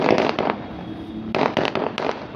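Fireworks bursting at a distance, a quick run of sharp crackling pops, a short lull, then another cluster of bangs, with no voices.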